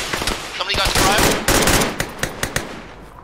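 Arma 3 machine gun fire pours into a BRDM vehicle, first as a dense sustained burst, then as sharp separate shots spaced out toward the end, loud and close.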